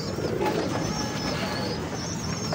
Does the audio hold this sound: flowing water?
no